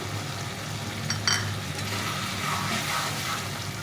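Masala paste being sautéed in a pan with a splash of water added, for a fish dish cooked with bitter gourd and drumsticks; a steady close sizzle and frying hiss with faint stirring scrapes, no talk.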